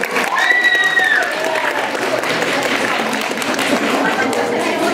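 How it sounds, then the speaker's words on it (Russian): Sustained applause at an award ceremony fills the hall, dense and steady, with a short whistle-like tone near the start and faint voices mixed in beneath the clapping. "Аплодисменты!"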